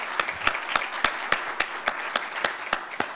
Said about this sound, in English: So let's give them both another round of applause.